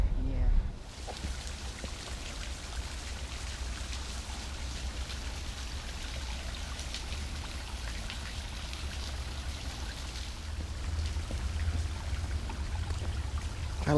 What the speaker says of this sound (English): I love the sound of running water on a mountain trail.